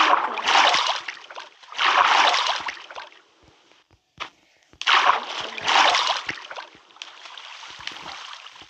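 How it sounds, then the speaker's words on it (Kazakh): Water rushes and splashes in loud, surging bursts with short quiet gaps between them, close by, then settles into a softer continuous wash. "О, міне осы судың аққаны керек қой бізге."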